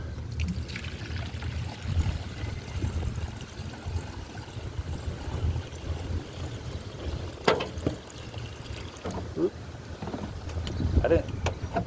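Water trickles and pours into the coolant reservoir of a German car in a steady, faint stream under low background noise, with a few knocks and clinks of the container along the way.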